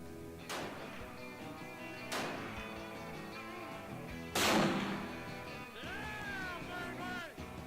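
Three loud rifle shots, each a sharp crack with a short ringing tail, spaced a couple of seconds apart over steady background music.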